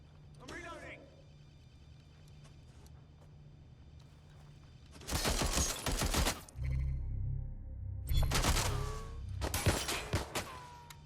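Bursts of gunfire in Watch Dogs: Legion, with two dense rapid volleys, loud and close, separated by quieter stretches where voices shout between shots.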